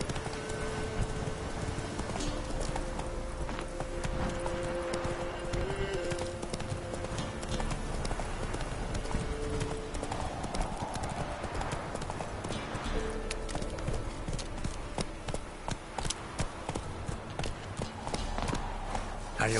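Horse galloping in The Witcher 3 on PS5, a continuous, even clip-clop of hooves in a fast rhythm that is loud and close, layered over game music and ambience.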